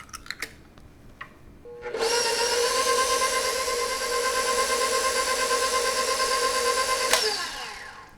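An electric stand mixer beats cheesecake batter, starting up after a few light clinks and running as a loud, steady whine with a faint rhythmic pulse before cutting off with a clunk.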